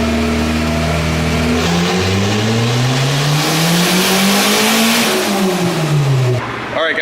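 Turbocharged Honda Civic with a Rev9 eBay turbo kit revving hard on a dyno without VTEC, engine pitch climbing steadily through a pull toward about 6,000 RPM, then backing off; loud and close, alone without talk.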